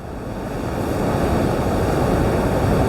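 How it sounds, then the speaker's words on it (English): Ocean waves break against rocks on the Pembrokeshire coast in Wales, a continuous loud rushing roar that builds slightly, heavily mixed with wind buffeting the microphone. "it's actually breaking the waves before they're now hitting that side"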